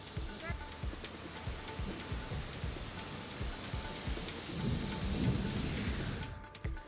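Unseasonal rain pours steadily with rolling thunder in Patan taluka, Satara, a dense hiss of heavy rainfall on surfaces with low rumbles building midway, loud and close throughout.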